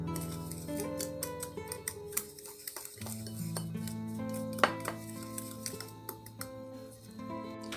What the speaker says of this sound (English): all you want to do is mix that until it's well combined